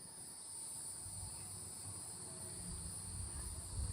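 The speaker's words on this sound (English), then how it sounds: "Here's the cicadas in the background. Wouldn't be a hot summer southern day without the sound of cicadas." Cicadas drone steadily on a hot summer day in Florida, a continuous high-pitched buzz that holds unbroken from start to finish, with faint low rustling beneath it.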